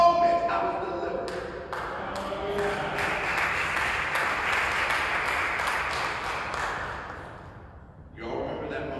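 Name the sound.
congregation clapping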